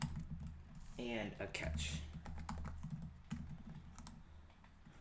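Quick keystrokes on a computer keyboard while writing Swift code in Xcode 9 for an iOS 11 app, soft clicks in short runs under someone speaking.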